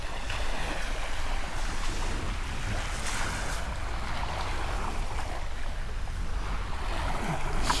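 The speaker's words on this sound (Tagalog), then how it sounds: "Sobrang ganda ng dagat." Sea waves wash continuously onto a quiet beach, a broad, steady rush of surf with wind noise buffeting the microphone and no voices.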